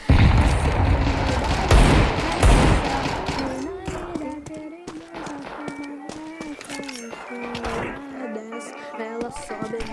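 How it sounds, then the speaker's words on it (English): A grenade blast in Counter-Strike 2 opens with a loud booming burst over the first few seconds, followed by lighter gunfire and in-game clatter, with voices speaking underneath. "Throwing a grenade."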